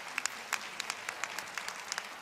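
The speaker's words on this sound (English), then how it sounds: "Big round of applause for our panelists." An audience gives a round of applause for panelists after a travel talk, a modest smattering of individual claps heard fairly faintly from a distance, with no speech.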